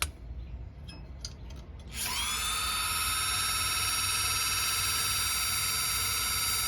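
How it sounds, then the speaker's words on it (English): Electric parking brake motor on a 2020 Mitsubishi rear caliper pushing the piston out, starting after a couple of quiet clicks into a steady, loud, high electric whine that holds to the end. "what that will do is it's actually going to push the piston back out"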